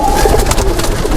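A pigeon coos up close, a loud, throaty, rolling burble that runs straight through a short moment, with no voices over it.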